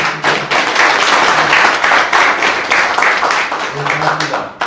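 An audience in a National Assembly meeting room applauds a guest at a youth drug-prevention briefing, loud, sustained clapping from many hands with a few voices mixed in beneath.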